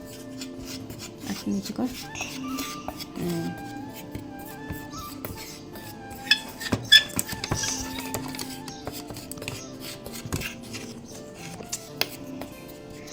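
Homemade herbal sindoor powder being mixed in a bowl, with rasping, scraping strokes and small clinks against the bowl repeating irregularly under occasional quiet speech.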